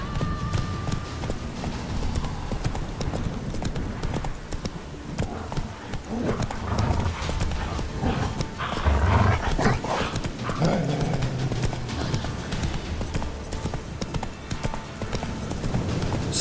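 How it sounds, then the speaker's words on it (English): A horse gallops at steady pace in the Witcher 3 video game, rapid rhythmic hoofbeats continuing throughout, fairly loud and close with no talk. "Run, Roach"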